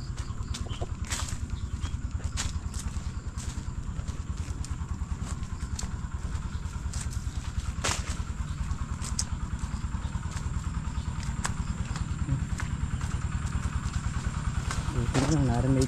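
An irrigation water pump engine runs outdoors with a steady, rapid chugging throb, fairly close and unbroken throughout, with a few faint clicks and knocks on top.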